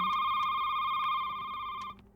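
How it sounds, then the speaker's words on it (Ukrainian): Store telephone in the horror game Shift at Midnight rings loudly and steadily in one continuous electronic burst that stops suddenly, with faint clicks underneath and no talk. "Телефон?"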